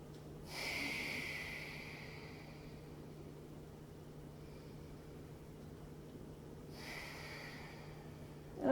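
A person holding a pelvic bridge during a core workout takes slow, audible breaths: two long airy exhales, one early and one late, separated by a quiet stretch, close-up and unaccompanied by talk.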